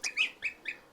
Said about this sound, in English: I think every farm needs to have a goose